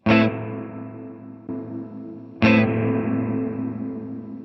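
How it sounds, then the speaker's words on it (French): Two electric guitar chords through reverb and compressor pedals ring out with a long reverberant, compressed sustain, the second struck louder and left to decay; no voices. "Tiens, juste pour l'occasion, compresse un coup, normal. Donc déjà, je mets la reverb."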